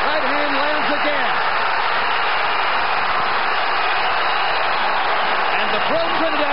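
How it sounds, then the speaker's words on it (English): A pro-Trinidad boxing crowd roars through a Felix Trinidad versus William Joppy WBA middleweight title fight, a constant loud wash of cheering beneath a commentator's voice. "And the pro Trinidad crowd comes to life."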